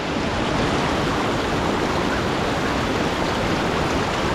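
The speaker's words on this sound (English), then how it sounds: "Water flow is definitely stronger than I would have expected" Strong stream water flowing steadily in late August on Vancouver Island, a dense, continuous rushing wash heard close and loud with no pauses.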